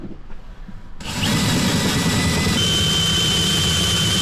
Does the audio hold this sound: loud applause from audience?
no